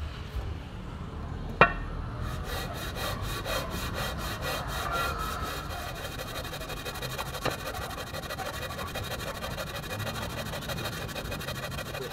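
Sandpaper scrubs steadily across the surface of a Honda D15B engine block during a top overhaul, a continuous rhythmic rasping with one sharp knock early on and no voices.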